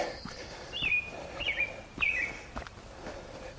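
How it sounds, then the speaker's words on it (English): Several short, high bird chirps sound at intervals outdoors, fairly faint, over soft footsteps and quiet background noise. "The birds are singing."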